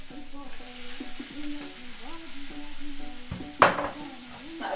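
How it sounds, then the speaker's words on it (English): Onions sizzle and fry in a pot while being stirred, with a steady crackle under a faint tonal hum and a sharp utensil clank toward the end. No one speaks. "the onions are becoming a little bit translucent, so we're just going to stir fry them a little bit more"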